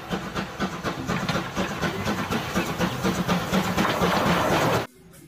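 A Thomas and Friends toy train runs with a continuous rattling, hissing mechanical whir and rapid clicking, fairly loud and steady before stopping abruptly near the end.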